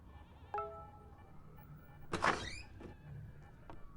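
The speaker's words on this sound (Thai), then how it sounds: "เสียงประตู" A door opening in the Roblox video game: a short sliding, whooshing burst in the middle, with fainter electronic tones and clicks before and after.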